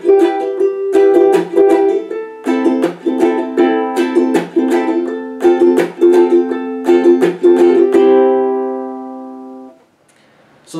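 A ukulele strummed in a repeating pattern of thumb strokes, down-up strums and muted clicks playing a song, steady rhythmic chords for about nine seconds before ringing out into silence.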